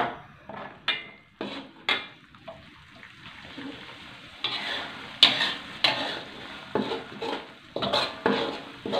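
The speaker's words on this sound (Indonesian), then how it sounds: "Ini saya nak tumis sampai kering" Spice paste for a red quail curry sautéed in a pan until dry, heard as a steady run of scraping spatula strokes against metal with a soft sizzle underneath, close and fairly loud, with no talking.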